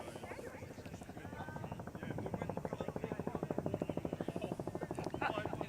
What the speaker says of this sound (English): Helicopters flying in overhead.